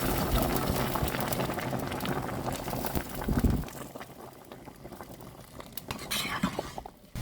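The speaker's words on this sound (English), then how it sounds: "It is time to add hot boiled water in." Hot boiled water pours into a simmering sweet and sour rib sauce, giving a faint bubbling and sizzling patter with brief splashes, quiet and close.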